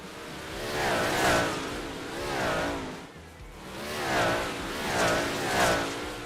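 Modified race cars circle a track in Monday Night Modifieds, their engines roaring past in repeated swelling waves, loud and near, with no speech.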